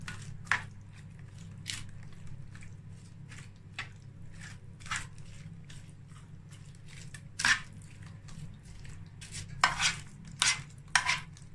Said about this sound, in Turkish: Sosumuzu da iyice dağıtıyorum